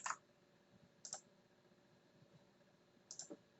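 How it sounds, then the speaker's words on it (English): A few loud clicky keystrokes in small bursts, separated by quiet pauses, close to the microphone. "You can hear my noisy keyboard."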